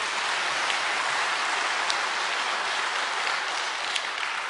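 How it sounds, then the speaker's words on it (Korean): A church congregation applauds during a Holy Week prayer service: a quiet, even wash of many hands clapping, steady throughout with no speech. "박수 한번 쳐주세요"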